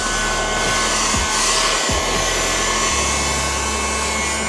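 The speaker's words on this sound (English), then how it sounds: "I'm going to leave that going. And let's just keep on vacuuming." A Ryobi USB Lithium handheld vacuum cleaner (FVH67K) running steadily and loudly close by, a constant motor whine with a low hum that shifts slightly in pitch partway through, and no talking.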